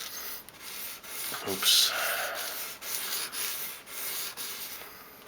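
Steady back-and-forth rasping of a Gerber Paraframe knife blade being sharpened on sandpaper, even strokes about twice a second, close and fairly quiet, with a brief spoken word partway through.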